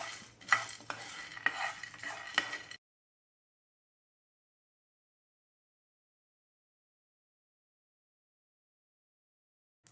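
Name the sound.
peanuts dry-roasting and being stirred in a pan on high flame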